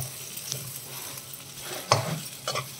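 Garlic mutton keema frying in a covered pan, a low steady sizzle with faint scraping stir sounds and a few sharper clinks near the end.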